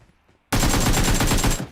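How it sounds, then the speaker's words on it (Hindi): Rapid automatic gunfire in the mobile battle royale game BGMI erupts suddenly after near silence, a loud, dense burst of shots lasting about a second before cutting off. "मैंने इस बंदे को बॉट समझ के थोड़ा सा देर के लिए फायर कर रोका"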